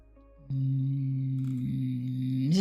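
A person's voice imitates a running microwave with a steady, droning hum that holds for about two seconds and rises at the end, close and alone.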